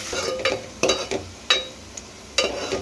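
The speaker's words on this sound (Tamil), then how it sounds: "இப்போ ஒரு கடாயில் எண்ணெய் சேர்த்து எண்ணெய் சூடானதும் வெங்காயம் சேர்த்து வெங்காயம் நல்லா பொன்னிறமாக வர வரைக்கும்" Onions frying in hot oil in a kadai, with a steady close sizzle broken by repeated scraping strokes of a spoon as they are stirred.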